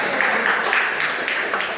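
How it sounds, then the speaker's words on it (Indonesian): Applause from a classroom of students, a steady patter of many hands clapping at moderate level, continuous for the short stretch with a faint voice underneath. "Tepuk tangan dong."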